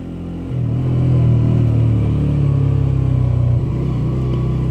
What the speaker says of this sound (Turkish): çöp kamyonu Karpuzlu Belediyesi çıktı